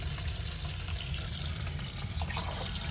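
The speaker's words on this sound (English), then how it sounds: "That is nice hot water." Hot water gushes steadily from a tap on a narrowboat, fed by a Cointra water heater, in a constant, loud hiss with a low rumble underneath and no voices.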